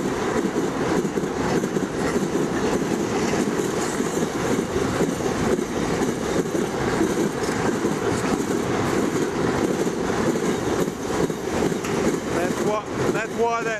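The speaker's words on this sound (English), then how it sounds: "Hear the noise as it's going over the crossing loop." A long train rumbles steadily over a crossing loop on the line between Cook and Kalgoorlie, Australia, with rhythmic clattering and a continuous loud roar throughout.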